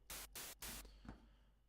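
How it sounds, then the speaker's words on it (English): Bursts of white noise from a Massive software synth, triggered in a music production setting: three short hissing blasts in quick succession followed by quieter fading noise. "if you don't have like basically a white noise generator that you can trigger with MIDI"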